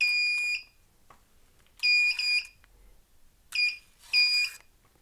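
A cheap handheld metal detector from AliExpress, passed over a chain, gives four short, high electronic beeps in separate bursts with quiet gaps between them, close and clear with no talking.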